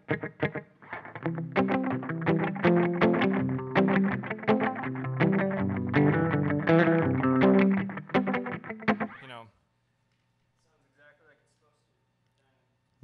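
An electric guitar played through a Roxen delay effect pedal, a steady stream of echoing, slightly distorted notes and chords for about nine seconds before cutting off into near silence.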